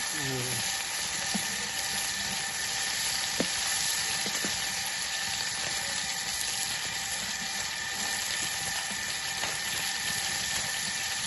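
Sea fish frying in a pan on a wood-fired clay stove in a rural setting, giving a steady, close hiss and crackle of hot oil that carries on without a break, with faint voices in the background.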